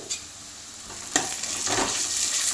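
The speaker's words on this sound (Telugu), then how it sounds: "అల్లం వెల్లుల్లి పేస్ట్ వేసుకొని మంచిగా అంతా కలిసేట్టు కలుపుకోవాలి" Ginger garlic paste is stirred into onions and green chillies frying for a chicken gravy curry, with a spoon scraping the pan a few times over a steady, rising sizzle.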